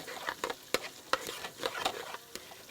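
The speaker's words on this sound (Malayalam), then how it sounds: "അരിഞ്ഞ ചെറിയ ഉള്ളി നമ്മൾ ആ എണ്ണയിലിട്ട് ഇളക്കിക്കൊണ്ടിരിക്കുകയാണ്" Chopped shallots stirred and fried in hot oil for a Kerala mackerel curry, with a spatula scraping and clicking against the pan in an uneven rhythm over a soft steady sizzle, close up and with no one talking.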